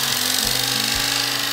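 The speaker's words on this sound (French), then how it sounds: "Le bruit de la tondeuse, il est incroyable." An old electric hair clipper used by an 88-year-old barber in France runs with a steady, loud, close buzz that holds unbroken throughout.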